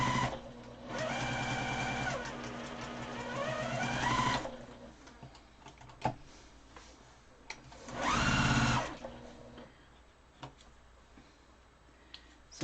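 A sewing machine stitching quilt pieces in the sew-and-flip method, two steady motor-driven runs of rapid stitching, close and clear, separated by a quiet pause with small clicks of handling.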